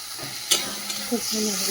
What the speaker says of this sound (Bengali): মশলাটা ভালো করে কষিয়ে নিয়েছি, তেলও ছেড়ে গেছে